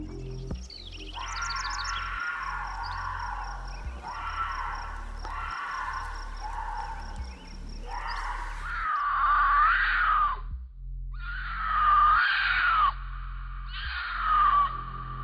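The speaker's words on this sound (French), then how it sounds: "Voici plusieurs extraits différents que j'ai pu trouver sur YouTube de cris de puma." Several recorded puma (cougar) screams, each a loud, drawn-out, wavering wail like a woman's shriek, repeated in separate bursts over steady background hiss, with no talking.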